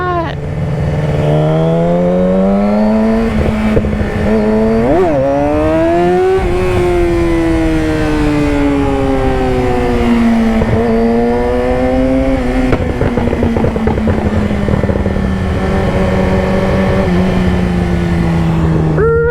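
A loud Yamaha R6 sport motorcycle engine runs continuously downtown in light traffic, revving up and down as it rides, with pitch rising and falling through gear changes.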